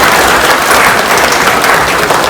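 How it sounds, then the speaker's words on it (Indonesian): Steady, dense applause from a school audience during a police outreach talk at a vocational high school, loud and unbroken throughout with no talk over it. "Tepuk tangan dulu Pak"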